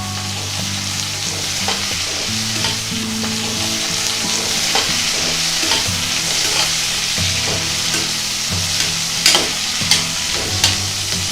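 Loud, continuous sizzling of onions and green chillies sautéing in a pan, with frequent clinks and scrapes of a spoon stirring, and a low hum underneath.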